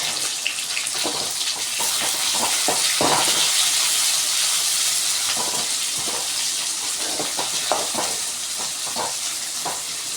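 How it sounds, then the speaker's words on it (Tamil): Onions and tomatoes sautéing in a pan for Tamil kara kulambu, a loud continuous sizzle with scattered crackles and scraping stir sounds throughout. "வெங்காயம் தக்காளி நல்லா வதங்கட்டும்."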